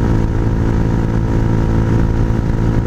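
A Hawk 250 motorcycle fitted with an aftermarket exhaust revs close by, a loud, rough, continuous engine roar that is higher pitched than the stock exhaust, with no speech.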